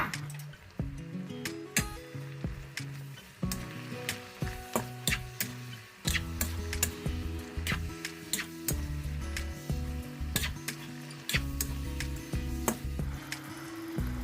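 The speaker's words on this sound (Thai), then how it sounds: "แต่จะใส่ข้าวโพดอ่อนลงไปผัดก่อนค่ะ" Baby corn stir-fried in a pan with beef for Thai basil stir-fry, with soft crackling, scattered spatula clinks and taps on the pan in an irregular rhythm, close and moderately quiet, no voices.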